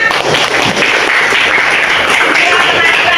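A class of children applauding together in a school classroom, dense steady clapping filling the room for a few seconds with a voice briefly mixed in.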